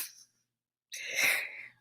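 A person imitates a sneeze with the voice: a brief breathy burst, a pause, then a longer, louder hissing sneeze-like blast, close and alone.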